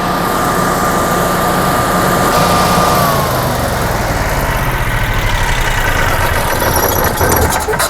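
A Generac air-cooled standby generator engine idles steadily up close, a loud continuous mechanical drone with a slight shift in tone partway through, no voices.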